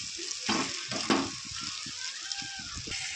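Eggplant fries in plain oil in a pan, a steady sizzle under a couple of clattering knocks as a plate is set over it as a lid, then quieter crackling continues.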